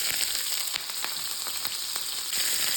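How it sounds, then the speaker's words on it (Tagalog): Cooking oil heats in a frying pan, giving a steady close sizzle with scattered sharp crackles and pops throughout, with no voices. "Pinapainit ko lang yung mantika."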